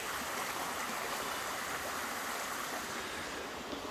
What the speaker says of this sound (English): I'm going to spin y'all around, show you Honeysuckle Creek.